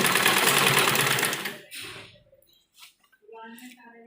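A sewing machine runs steadily while stitching lace along the folded edge of a frock hem, a dense close whir for about a second and a half that then stops, followed by faint handling sounds and soft talk.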